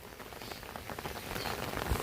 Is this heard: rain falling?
yes